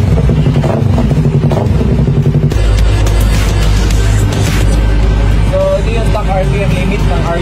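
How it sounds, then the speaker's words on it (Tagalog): A Yamaha R3 sport motorcycle engine revs hard up to its stock RPM limit, a loud, close, sustained roar with rattling clatter, shifting in pitch partway through as the revs hold near the limiter. "So guys, ito yung stock na RPM limit ng R3."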